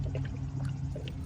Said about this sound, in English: And then I'll just top off the rest with fresh distilled water.